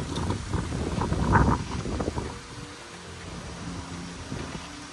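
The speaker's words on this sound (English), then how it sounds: "You get wind gusts just like that every so often." Hurricane Ian wind gust in Tampa Bay, Florida, a broad rushing roar that swells to a peak then eases into a softer background hum, with no talking.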